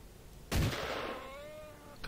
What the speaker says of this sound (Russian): Как я ему удачно в бок выстрелил